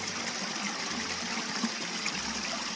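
Cold mountain stream in the Scottish hills, a steady broadband rush and trickle of flowing water, fairly close and continuous with no voices.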